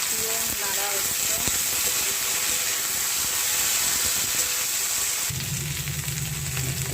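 Samosa filling of spiced potato and peanuts is stir-fried in a pan with a continuous hissing sizzle and scattered scraping stirs. Near the end a low steady hum rises underneath.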